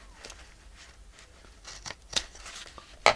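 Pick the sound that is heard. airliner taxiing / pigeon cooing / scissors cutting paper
scissors cutting paper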